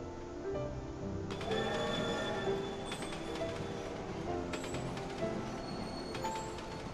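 The Ghost Express train in Kingdom Hearts 2 rolls along with a continuous rumbling clatter, overlaid by high metallic ringing squeals that come and go, moderately loud and steady throughout.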